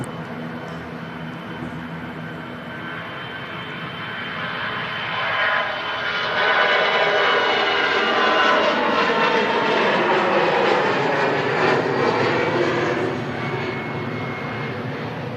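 Brussels Airlines jet in Tintin livery at Manchester Airport, engine roar swelling from moderate to loud around the midpoint and then easing slightly, a continuous broad whine and rumble.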